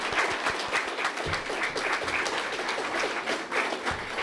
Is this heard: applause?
yes